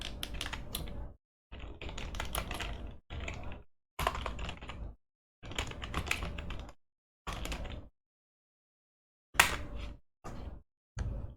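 Bursts of computer keyboard typing while code is entered, clattering key presses in several runs separated by short pauses, close and fairly loud with no talk.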